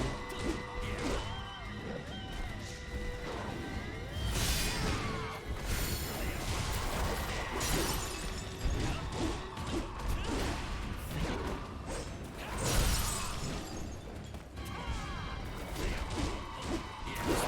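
Heavy staff combo strikes in Wo Long: Fallen Dynasty, a continuous stream of smashing impacts and swishes layered over game music and effects, loud and busy throughout.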